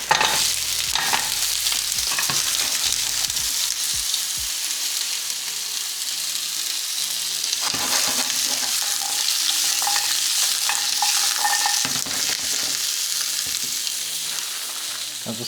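Vegetarian sausages frying in very hot oil in a pan, a loud, dense, continuous sizzle and crackle with occasional stirring scrapes.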